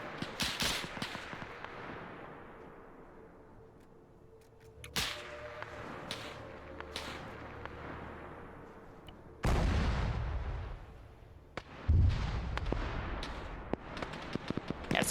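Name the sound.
machine gun firing in distance, Arma 3 video game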